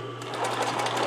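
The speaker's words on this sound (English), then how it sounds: "I'm going to sew a straight line, making sure everything's out of the way" A sewing machine runs in a short, fast burst of stitching a straight line on fabric, close and fairly loud.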